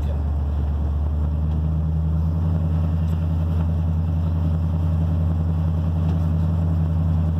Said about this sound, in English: So it's so nice to drive it with a nice tight exhaust and headers that don't leak.